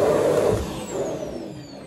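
Bagless electric vacuum cleaner running steadily, a loud close whooshing motor roar with a high whine, easing slightly in level over two seconds.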